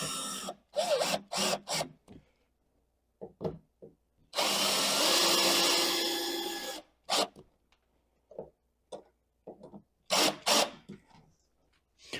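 A power drill bores into the metal mounting bracket of a TCL D1 Pro palm vein smart lock in one sustained whirring run of a few seconds, set among scattered clicks and handling knocks.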